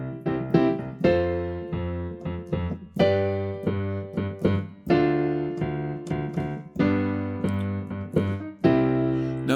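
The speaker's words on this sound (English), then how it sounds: "If we played everything in root position, the music would sound like this." Solo piano sounding sustained triad chords in root position, one block chord after another at a steady moderate pace with leaps between them, clear and close with no talking.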